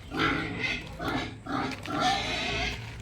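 Pigs grunting on a small mini farm, a string of rough, close grunts and snorts coming in short bursts with brief pauses between them.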